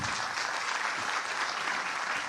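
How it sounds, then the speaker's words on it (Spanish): Applause at a book fair in Cúcuta for the writer Leonardo Padrón, dense, even clapping from a seated audience filling the room without a break. "un aplauso para Leonardo Padrón."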